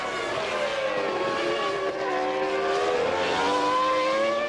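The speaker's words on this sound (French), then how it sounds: "Villeneuve gagne le Grand Prix d'Argentine." Formula 1 race cars at the 1997 Argentine Grand Prix scream past in a steady, dense high-pitched engine wail, several cars overlapping with slowly shifting pitch as they rev along the circuit.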